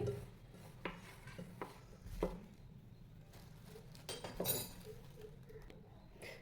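A spoon clinks and scrapes against a bowl while fish fry batter is mixed with salt and oil, a few sharp taps and rubbing strokes at close range in a quiet kitchen.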